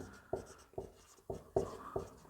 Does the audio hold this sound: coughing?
no